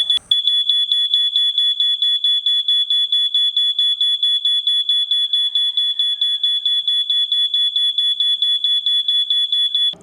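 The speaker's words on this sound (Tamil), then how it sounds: "இப்போது இந்த மாதிரி உங்களுக்கு அலாரம் அடிக்கும்." A shrill, high-pitched electronic anti-theft alarm from a vehicle GPS tracker beeps in rapid, continuous pulses, loud and close, with no voices.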